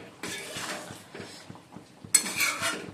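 A cooking pot lifted off a home stove after simmering a curry with a little gravy left, giving a few close metallic clanks and scrapes with brief clinks, one sharper knock near the end.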